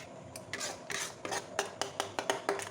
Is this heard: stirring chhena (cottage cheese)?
yes